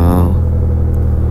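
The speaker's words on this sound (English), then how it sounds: "sport exhaust to emphasize the beautiful sound coming out from two pipes" Royal Enfield Super Meteor 650 motorcycle fitted with a Rhino Racing sport exhaust through two pipes, giving a loud, close, steady deep rumble that holds evenly throughout with a slightly brighter tone at the very start.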